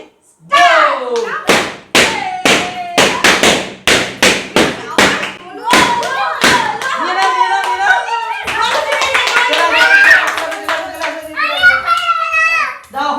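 Balloons burst one after another in a children's balloon-popping game, sharp loud pops coming in a quick irregular series at first and then scattered among excited children's shouting and chatter.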